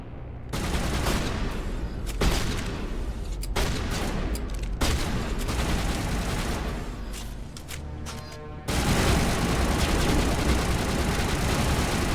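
Gunfire in the game Mass Effect, dense bursts of rapid shots and heavy blasts rolling continuously, loud and close, growing denser toward the end.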